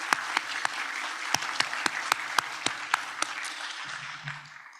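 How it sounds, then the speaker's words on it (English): Scattered applause from a conference audience, with sharp individual claps over a broad patter that thins and fades toward the end while a voice briefly begins. "Let's give them a round of applause."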